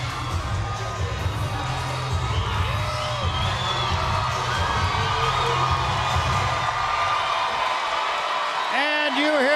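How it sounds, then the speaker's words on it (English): Arena crowd at a women's boxing match between Claressa Shields and Hanna Gabriels, cheering and shouting in a loud, continuous roar, with commentators talking over it. "you hear the crowd begin to react to one of their own"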